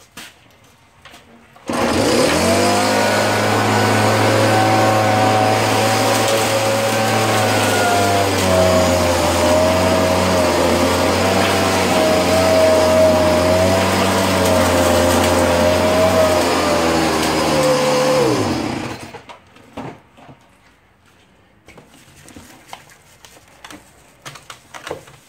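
A leaf vacuum roars loudly and steadily for about sixteen seconds as it sucks up leaves, its motor pitch holding level with a slight whine, then it cuts off, leaving quiet outdoor background.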